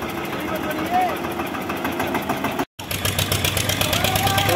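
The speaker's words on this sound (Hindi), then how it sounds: "तो यहाँ भी काफी चढ़ाई है ट्रैक्टर के लिए।" An Eicher 242 XTRAC tractor loaded with wood labors up a slope, its engine giving a continuous, close, chugging throb with one brief dropout, while someone talks over it.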